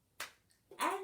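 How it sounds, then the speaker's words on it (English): Two sharp hand claps in a children's Bingo song at a storytime session, separated by a short gap, crisp and close with the second slightly longer, no voices in between. "we'll put another clap in there"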